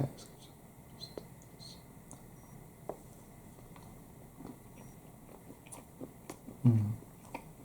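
Someone bites into and chews a double chocolate muffin up close, with soft, moist mouth clicks and crumbly chewing scattered over a quiet background and faint whispery breath.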